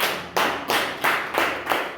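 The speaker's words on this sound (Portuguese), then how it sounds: "Uma salva de palmas para Deus." A church congregation claps together in five quick bursts, each loud swell of applause fading slightly before the next, with no voices over it.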